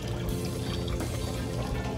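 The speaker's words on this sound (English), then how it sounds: "Put some water in the pump to prime." Water poured into a pool pump housing to prime it, a continuous splashing pour that stays steady and fairly close throughout.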